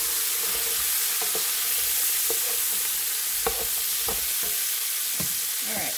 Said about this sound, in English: All right, one more stir.